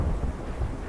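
Thunder rolling through a storm in the video game Un Pueblo de Nada, a deep continuous rumble at steady loudness with no voices.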